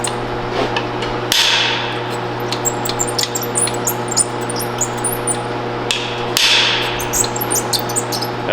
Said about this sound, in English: whack your lock side of the rivet, and just keep working it